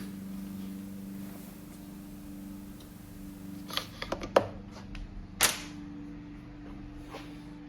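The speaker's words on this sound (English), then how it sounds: "I'm just pulling the cord lightly just to make sure everything is engaged properly" Light pulls on the recoil starter cord of an Echo leaf blower, heard as a few faint, brief rasping tugs and clicks over a low steady hum in a quiet workshop.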